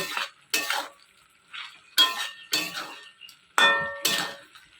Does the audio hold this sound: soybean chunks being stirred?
yes